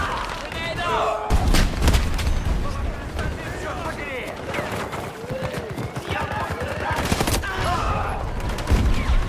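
Video game combat: a grenade blast followed by heavy bursts of gunfire and booming impacts, loud and continuous throughout, with voices talking over the action.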